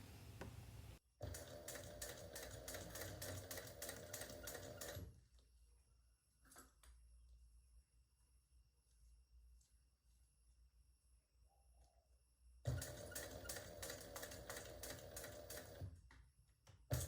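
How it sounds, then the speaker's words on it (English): Sewing machine top stitching through the thick layers of a tote bag: two rapid, loud runs of stitching near the start and end, separated by a quiet pause with faint handling clicks. "Now just top stitch all the way through."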